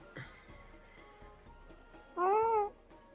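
A small cat gives a short, clear mewing cry of about half a second, close and distinct over a quiet background, after a faint earlier whimper.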